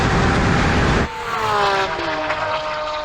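Lamborghini Aventador SVJ in a drag race: a loud, close engine roar that cuts off abruptly as the car passes, then a fainter, rising high-pitched engine whine trailing into the distance.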